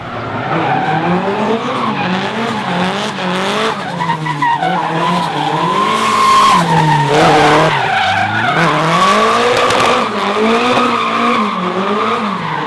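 Car tires screech continuously in a long, wavering squeal as a car drifts in second gear at a drifting championship, with the engine roaring underneath throughout, loud and close.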